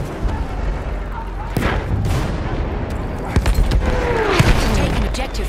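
Battlefield 1 combat on the Amiens map: a sharp grenade blast stands out amid continuous battlefield din, with other booms and gunfire cracks scattered through, and game voices calling out over the noise.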